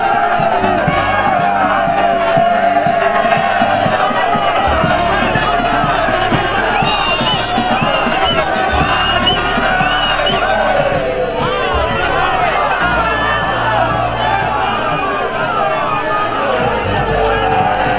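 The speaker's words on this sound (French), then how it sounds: "Il a été ovationné par la population" A large street crowd in Mbuji-Mayi cheers and shouts for President Felix Tshisekedi walking along an avenue at night, a loud, sustained roar of voices, whoops and chanting throughout.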